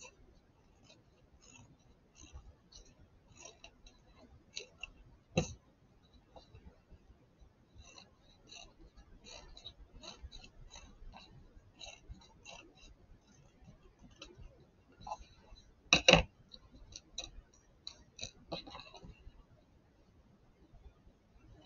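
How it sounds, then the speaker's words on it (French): Paper scissors snip around a fabric and paper template, quiet irregular clicks and short crisp cuts spread over a long stretch, close by, with a sharper snap now and then. "je prends mes ciseaux à papier et je viens couper tout autour à 2 ou 3 mm"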